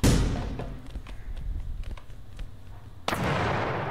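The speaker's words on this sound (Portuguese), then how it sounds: "Um tiro só, mano. Com um tirambaço." A single loud, sharp gunshot in the video game The Final Station, a close burst with a short decay, followed by a second heavy blast near the end.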